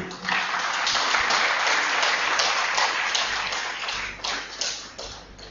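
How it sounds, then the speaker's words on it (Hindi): An audience in a hall claps loudly and continuously to welcome a speaker, a dense sustained wave of applause that fades slightly toward the end. "आप जोरदार तालियों से उनका स्वागत करें"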